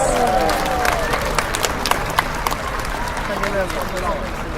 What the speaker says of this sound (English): Let's give Orchid a big round of applause.